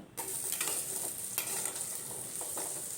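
Sweet potato pieces drop into a hot pan with cumin and burst into an immediate, steady sizzle, broken by a few scraping stirs and spatters, heard up close with no speech.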